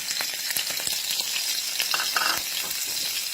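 Minced pork with lotus stems frying in a pan, a loud, dense crackling sizzle with constant popping and splattering, close up and continuous with no voices.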